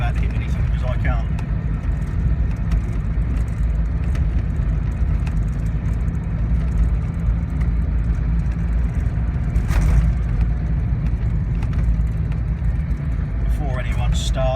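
A Land Rover Discovery 1 with a 200Tdi diesel drives along a private farm road, giving a loud, continuous in-cabin rumble and road drone that holds steady throughout.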